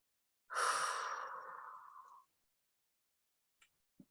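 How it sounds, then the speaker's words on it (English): A single long, deep breath drawn in, loud and close for nearly two seconds, then quiet, with a faint click and a soft breathy puff at the end. "Go ahead and breathe it in."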